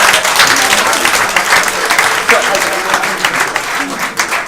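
A comedy show audience breaks into applause, loud, dense clapping from a crowd that lasts the whole stretch, with some voices mixed into the noise.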